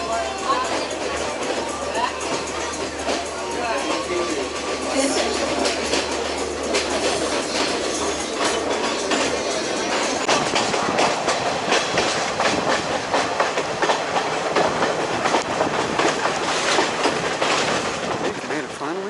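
A train runs on rails high in the mountains in the rain, with steady rolling rumble and clickety-clack wheel noise throughout, close and continuous.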